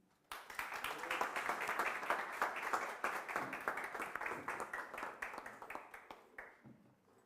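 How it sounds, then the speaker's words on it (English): A seated audience gives a speaker at a morning breakfast talk a round of applause, with dense, steady clapping that fills the room for several seconds before tapering into scattered claps near the end. "A round of applause for our speaker, Sevi."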